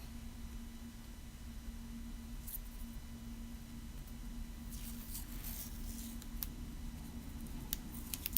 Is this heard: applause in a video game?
no